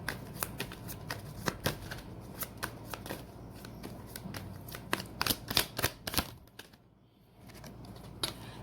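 Tarot cards are shuffled in a steady run of crisp riffling snaps and flutters, close and fairly loud, with a short quiet pause before the shuffling resumes.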